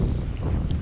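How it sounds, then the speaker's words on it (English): Strong wind buffets the microphone in a steady, close, low roar during a snow storm with sideways-blowing snow and drifts, with no other sounds. "we got out at least in all this torrential wind"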